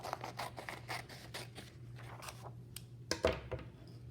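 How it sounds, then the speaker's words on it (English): Scissors snipping through a sheet of paper to cut it in half, a run of close, crisp dry snips and rustles with a sharper louder cut near the end, no talk. "I'm going to cut it in half with my scissors"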